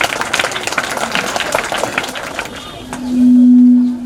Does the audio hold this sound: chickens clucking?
no